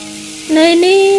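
Food stir-fried in a pan until half cooked, with a steady sizzle that swells louder halfway through and carries a thin squealing tone on top.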